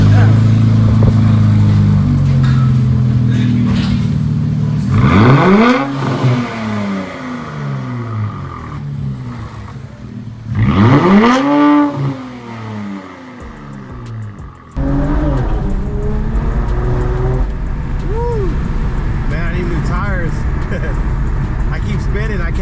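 Infiniti Q60 Red Sport fitted with a new aftermarket exhaust accelerates hard with rising engine sweeps, each pull climbing in pitch twice, loud and close, with a talking voice over it in the cabin.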